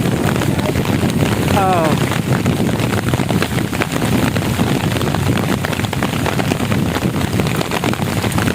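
Heavy rain at Haripur bridge, a dense continuous hiss of drops striking surfaces with wind buffeting the microphone, steady throughout.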